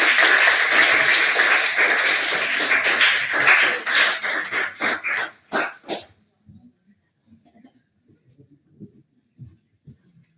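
Audience applause at a world congress general assembly, a dense roar of clapping that thins into scattered claps and stops after about six seconds, followed by quiet room noise and murmurs.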